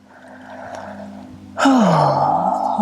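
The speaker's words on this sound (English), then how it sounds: "Let's do one more round of breath here." Deep breathing during a gentle vinyasa yoga practice: a soft airy inhale, then a louder, close exhale that swells and tails off, with no talk.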